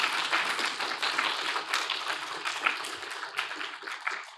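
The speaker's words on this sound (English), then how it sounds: "So I'm going to video the applause and send it to Tijjani." Conference audience applauding after a talk at a TechNet event, a dense steady patter of many hands clapping throughout, moderately close and without pauses.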